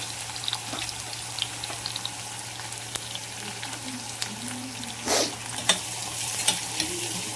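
Onion frying in roasted masala for mutton biryani, a soft steady sizzle beneath frequent spoon scrapes and taps against the pan, with one louder stirring burst near the end; nobody speaks.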